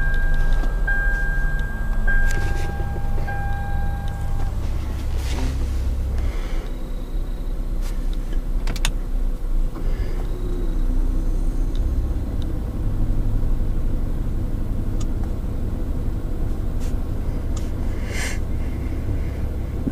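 A 2011 Toyota Sienna minivan engine runs steadily just after starting, a continuous low rumble with some brief higher tones early on and a few faint clicks, no voices.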